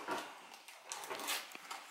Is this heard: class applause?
no